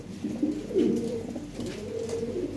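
Fancy pigeons kept at a home loft coo in low, rolling, continuous murmurs, close by and alone with no talk.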